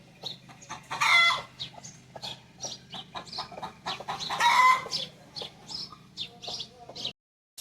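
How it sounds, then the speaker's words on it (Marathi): Several chickens cluck and chatter close by on a farm in a busy, irregular stream of calls, with a couple of louder bursts, then it cuts to silence. "बघा ही कोंबडी भीत नाही"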